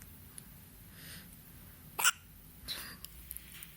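A newborn baby boy hiccups in a quiet room: one clear, sharp hiccup, then a softer second one a moment later, followed by a few faint small clicks.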